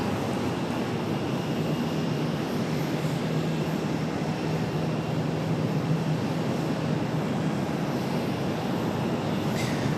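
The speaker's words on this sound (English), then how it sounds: "this one coming center is American Airlines 3275 from Baltimore, Maryland, 737-800" An American Airlines Boeing 737-800 arriving on the center runway at Charlotte airport makes a steady, broad jet roar that holds at an even level throughout, with no talk over it.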